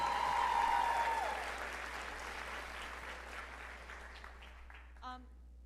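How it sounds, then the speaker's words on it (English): An audience applauds author Homer Hickam at a West Virginia young writers event. The clapping is loudest at the start, with a voice briefly over it, then gradually thins and fades to near silence. "round of applause for Homer Hickam"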